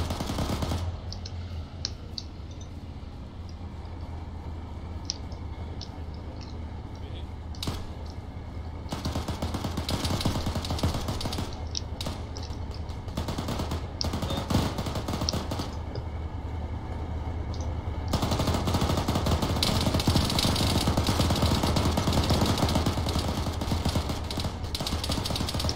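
Sustained gunfire in the Arma 3 military shooter, a dense crackle of automatic fire and shots running throughout, growing louder and busier in the later part with no voices over it.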